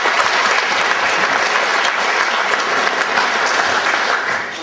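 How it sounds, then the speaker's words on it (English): A crowd at a Cansa Relay for Life event in Polokwane gives a sustained round of applause, thick and even throughout before tapering off at the very end. "Can we give them a round of applause"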